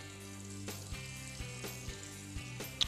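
A seasoned tomato and vegetables sizzling on a grill, a faint steady hiss with soft crackles, under a low background hum and a few light clicks.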